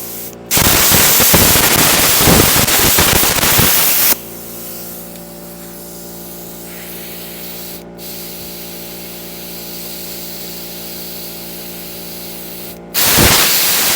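An 80 amp plasma cutter slices through thick steel with a loud, harsh roaring hiss for about four seconds. An air compressor then hums steadily for several seconds before another short burst of hissing cuts in at the end.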